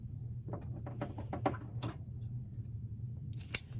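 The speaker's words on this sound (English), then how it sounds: "Now we're going to get the ladybug ribbon. We're going to trim that down." Scissors trim a length of ladybug-print ribbon for a handmade bow, giving a quick run of close, crisp snips followed by a couple of isolated cuts in an otherwise quiet room.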